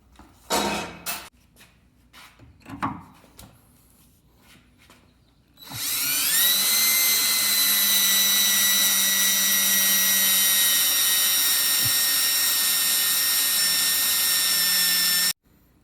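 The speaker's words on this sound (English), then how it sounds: "Finished drilling them out" A power drill runs nonstop for about ten seconds, a loud high whine, drilling out rusted bolts on the tailgate of a Jeep Wrangler TJ. Scattered clanks and handling noises come before it.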